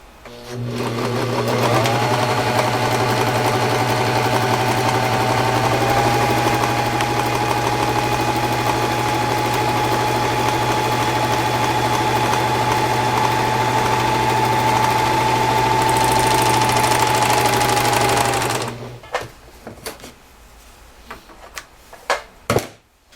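Overlock sewing machine running a test seam in interlock mode with one needle removed and a short stitch length, a steady continuous motor whir and mechanical hum for about eighteen seconds before stopping, followed by a few faint clicks.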